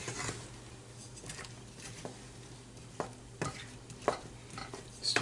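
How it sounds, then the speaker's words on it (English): Apples simmering in a cinnamon mixture in a pan, with a steady soft sizzle and bubbling beneath intermittent scraping stirs of a utensil against the pan, close and moderately loud, with no talking. "Our apples will simmer for at least 6 to 8 minutes until the apples get tender."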